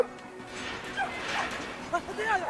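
A dog barking in several short, sharp yips at a nearby gate, scattered over a couple of seconds, with people talking underneath.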